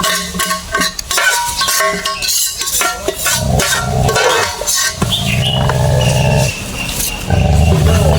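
A large cooking pot being filled with food for feeding animals, with metallic clanks, scraping and rustling of a bag, loud and close, continuous throughout with heavier handling toward the end.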